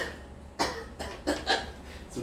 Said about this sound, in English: some coughing